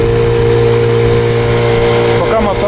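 A new Mikatsu 9.8 outboard motor pushes a boat at steady medium revs, a loud continuous mid-pitched engine drone close by, holding even throughout with no one speaking.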